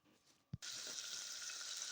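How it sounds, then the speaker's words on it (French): Onions hit hot oil and a little butter in a pan and start a steady, quiet sizzle, preceded by a soft knock. "je verse mes oignons pour les faire revenir avec un petit peu d'huile et une petite pointe de beurre"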